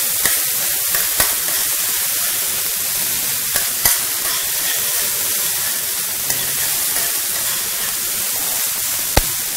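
Prawn gravy frying in a pan, a loud continuous hiss and sizzle with occasional sharp clicks of a utensil against the pan.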